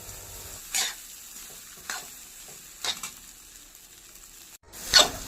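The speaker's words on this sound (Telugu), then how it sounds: "చూస్తున్నారు కదా, ఇలాగా చక్కగా మసాలా అంతా రైస్కి కలిసేలాగా కలుపుకోవాలి" Masala being stirred through egg fried rice in a hot pan, with four distinct scraping strokes spaced about a second apart over a soft background sizzle; no voices.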